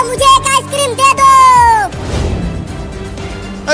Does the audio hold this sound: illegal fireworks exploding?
no